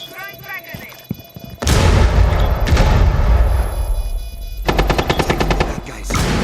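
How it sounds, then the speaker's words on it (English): A frag grenade detonates in Rainbow Six, a sudden loud, deep blast that rolls into sustained rumble, followed by a burst of rapid gunfire crackling near the end. "Throwing frag grenade."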